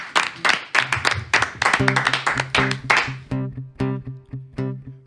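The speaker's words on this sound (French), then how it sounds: "on pratique l'applaudissement de confiance" Studio audience clapping on a radio music show, a loud round of applause that thins into a few sharp, separate claps near the microphone, with a brief vocal sound mixed in.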